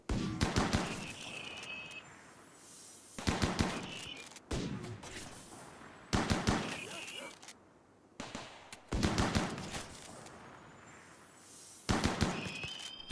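Turret gunfire at enemies in the Rimworld video game, arriving in repeated sharp bursts of rapid shots separated by short pauses, loud and close.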